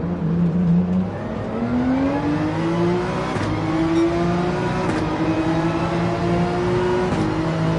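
Race car engine in a racing video game, a continuous loud whine rising steadily in pitch through the gears, with brief shift blips, alone without talk.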